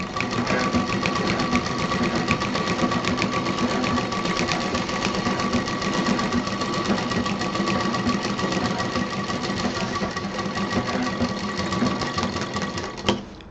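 Sewing machine stitching around a round fabric table mat, a loud, continuous rapid needle chatter running steadily at close range until it stops at the end.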